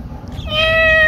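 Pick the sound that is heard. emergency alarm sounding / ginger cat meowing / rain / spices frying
ginger cat meowing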